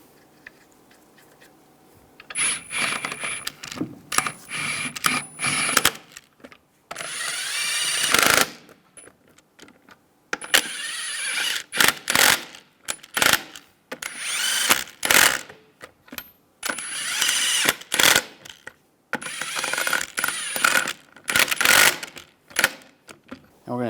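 An impact wrench runs lug nuts onto a rear wheel of a 2005-2006 Chevrolet Silverado 1500, loud close ratcheting bursts in repeated runs with short pauses between.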